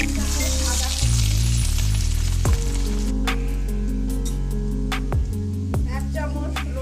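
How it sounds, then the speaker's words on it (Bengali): Chopped ginger dropped into hot oil left from frying meat, for Kolkata-style chilli chicken, giving a loud close crackling sizzle with clinks and a few sharp pops, no speech heard. "মাংস ভাজার তেলে আমি দিয়ে দিচ্ছি 1 চামচ আদা কুচি"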